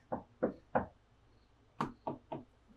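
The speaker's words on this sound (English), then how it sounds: "I kind of knock on the door." Someone knocks on a closed door from outside a room in two sets of three firm raps, separated by a short pause, close and clear in a quiet room.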